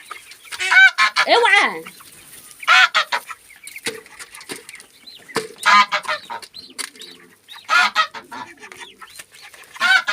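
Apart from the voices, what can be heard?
chickens clucking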